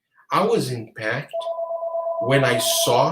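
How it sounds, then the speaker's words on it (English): A telephone rings with a steady electronic tone lasting about a second, sounding between and under a man's nearby speech, which continues around and over it. "sorry about the phone"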